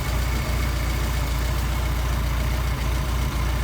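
A Mercedes 190SL engine with Solex carburetors idles steadily and close by, a continuous low, even rumble with faint periodic ticks and no speech.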